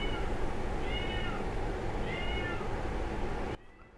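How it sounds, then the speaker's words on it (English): A house cat meows twice, moderately loud with short rising calls over a steady background hum that abruptly drops away near the end. "my cat's meowing"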